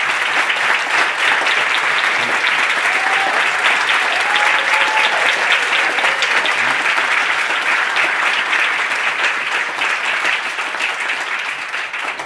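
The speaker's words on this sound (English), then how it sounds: "let's just give them a round of applause for their hard work and stuff." Sustained applause from an audience at a community lunch on housing, a dense steady wash of clapping lasting throughout and tapering slightly at the end.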